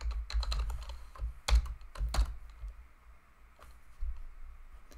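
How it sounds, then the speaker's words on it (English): Typing on a computer keyboard during work in Tableau, a fast run of clicky keystrokes in bursts with brief pauses, close and clear with no talking. "so I'm going to type include"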